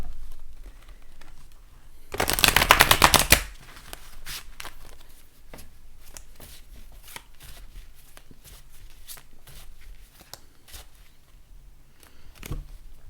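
A brisk burst of tarot cards being shuffled, loud and close for about a second, then quiet handling and soft card taps follow.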